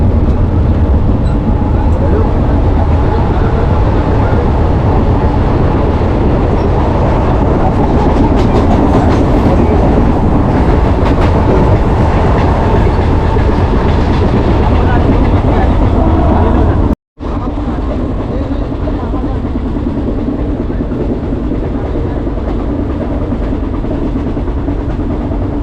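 Mumbai local train in motion, loud continuous rumbling with steady clickety-clack of wheels on rail joints, close and unbroken apart from a brief dropout near the end.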